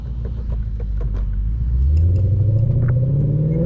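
A modified Lexus RC F, over 500 hp with full bolt-ons, revs loudly on downshifts, its deep engine note swelling and climbing steadily while the car roars along a backroad.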